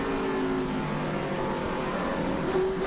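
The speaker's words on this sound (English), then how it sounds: "See him patting the throttle, trying to hold on the car." A NASCAR Nationwide race car engine at Memphis, stuck after a spin with some damage as the driver pats the throttle, a loud continuous rumble that rises and falls slightly, close and alone.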